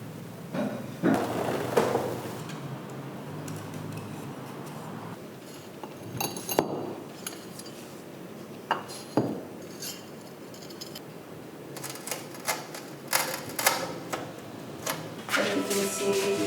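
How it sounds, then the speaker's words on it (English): A secondhand manual tile cutter scores and snaps tiles during a studio build, giving sharp glassy clinks and scraping strokes at close range, repeated irregularly across the stretch with several bursts near the end. "I guess it's gonna come into use today to cut some of the tiles"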